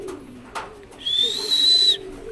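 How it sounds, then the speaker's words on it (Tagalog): Pigeons released at San Ildefonso, one soft low coo-like call followed by a brighter sustained whistling tone near the middle, fairly close against a quiet outdoor background. "May mga kalapati dun"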